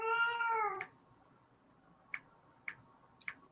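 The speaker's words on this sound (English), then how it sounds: "I've got a cat tonight. Doesn't want to keep quiet." A house cat lets out one long, clear, drawn-out meow up close, followed by quiet and then three faint, sharp clicks at spaced intervals.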